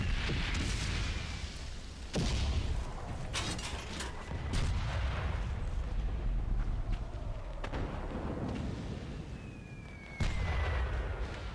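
Cannon fire in the World War One video game Valiant Hearts: The Great War, with loud booming blasts that recur every couple of seconds over a dense rumbling battlefield din, along with whistling shells and no voices.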